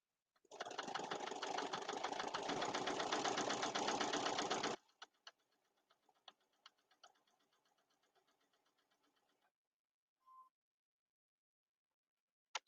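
A sewing machine stitches a potholder with a dense, steady mechanical whir for about four seconds, then stops, leaving scattered light clicks, taps and a brief faint tone afterward.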